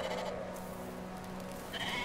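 Sheep bleating in the video game Brothers: A Tale of Two Sons, a steady wavering animal call over a constant game soundtrack hum, with a brighter cry near the end; no talking.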